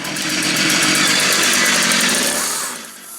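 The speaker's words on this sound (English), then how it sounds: "Time to restart the chainsaw, and let's check to see if the oil is flowing through properly now." Chainsaw running after an oiler repair and spark plug cleaning, a loud steady high-pitched engine drone held for over two seconds before easing down toward idle.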